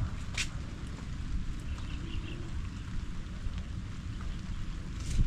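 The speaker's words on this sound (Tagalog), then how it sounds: "Bagong taon na pinalubong tayo ng ulan." Steady rain falls in a soft, continuous patter, with occasional faint drips and knocks rising above the wash of drops; no one speaks.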